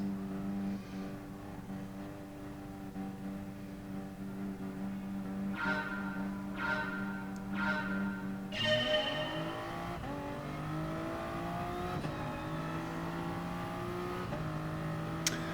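A Toyota Supra GT3 race car engine in the racing game GT Sport, idling on the grid at Dragon Trail Gardens, then revving hard and climbing through gear changes as the race starts, loud and continuous.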